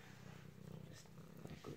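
A cat purrs up close in a deep, steady bass rumble that continues throughout at low volume, with no voices.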